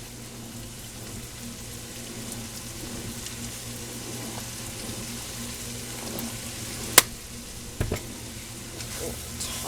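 Egg roll filling seasoned with soy sauce and white pepper, tossed in a hot pan, giving a steady close sizzle with scraping stirs and a sharp utensil clink partway through.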